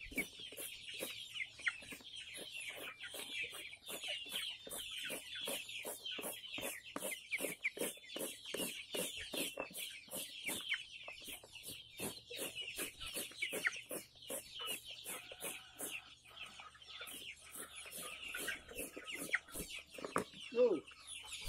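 Bangkok chickens cluck busily and close by, a dense, steady stream of short repeated clucks that runs without pause from start to finish, with no voices over them.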